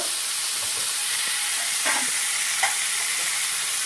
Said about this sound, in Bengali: এবার এটা ভেজে নেবো ভালো করে ঢাকা দিয়ে দেবো